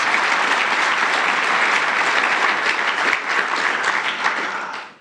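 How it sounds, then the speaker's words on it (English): An audience at the Gauteng Economic Indaba, where Ramaphosa gives an address, claps in sustained, even applause. The clapping is loud and dense for about five seconds, then fades quickly at the end. "Give them a round of applause."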